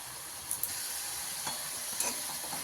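Masala of onion, garlic and tomato roasts in a pan for egg curry, a low steady hiss of sizzling with a few light spoon taps and scrapes.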